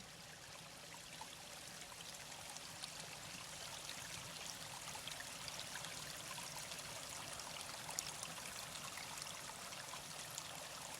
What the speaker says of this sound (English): Where water springs out of the ground